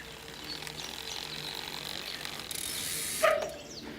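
Bicycle cranks spun backwards while lubing the chain, the drivetrain giving a fast, steady ratcheting click close by, with a brief louder clack near the end.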